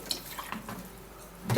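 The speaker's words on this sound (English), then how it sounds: "putting a little water to blend it." Water splashes and trickles into a blender jar holding a homemade colon-cleanse mixture, a short, faint pour with a few drips before a louder final splash.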